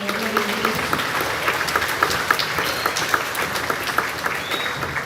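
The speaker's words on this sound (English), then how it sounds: "one more big round of applause for our MVP." Sustained applause from a large audience at a grades 4-6 school awards ceremony fills the space, dense, even clapping at a steady level throughout.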